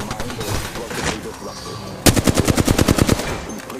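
Automatic weapon fire in an Apex Legends match cuts in after a couple of seconds of quieter in-game sound, a rapid close burst of roughly a dozen evenly spaced shots.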